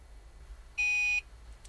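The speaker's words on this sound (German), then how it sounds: "Jetzt ist das Signal gekommen" Thitronik motorhome alarm system emitting a single clear electronic beep about half a second long, loud and pure-toned against a quiet background.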